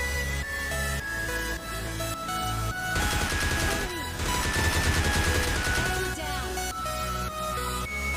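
Gunfire spray in PUBG Mobile Lite, dense rapid-fire bursts of in-game shots layered over continuous game background sound, steady and moderately loud throughout with a busier, heavier cluster of shots in the middle.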